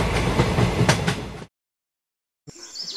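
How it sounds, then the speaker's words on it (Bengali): Mail train sound effect: a loud rushing rail roar for about a second and a half, then abrupt silence, then a quieter mechanical rattle returning. "ঠিক তখনই দূর থেকে কানে এলো ট্রেনের হর্ন।"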